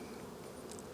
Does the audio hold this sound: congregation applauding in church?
no